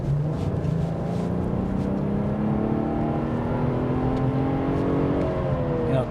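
BMW 840i M Sport petrol engine accelerating hard, a loud, continuous growl rising steadily in pitch through the gears, heard from inside the car without pauses.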